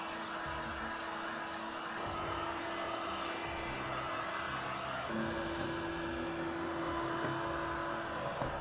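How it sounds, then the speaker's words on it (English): A heat gun blows steadily to dry the internal corners around a shower before siliconing, a loud continuous whooshing drone with a slight shift in pitch partway through and no speech. "we grab the heat gun, we'll dry the internal corners"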